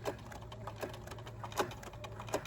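A sewing machine stitches forward along a body pillow seam, giving a faint, steady low hum broken by soft, irregular ticking clicks from the needle.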